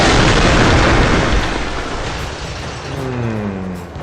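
A massive explosion in the city-destruction game CitySmash booms loudly, its heavy rumbling roar slowly fading while a tonal hum rises near the end.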